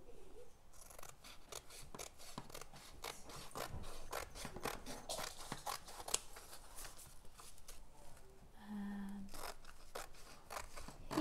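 Scissors snipping around the edge of a diamond painting for framing, a steady series of close, crisp cuts with rustling of the canvas between them.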